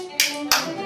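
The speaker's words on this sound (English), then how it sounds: "Well, I'll pick up the spoons. It's time to play them better." Two sharp, bright clacks of spoons struck together about a third of a second apart, close and crisp over a faint steady hum.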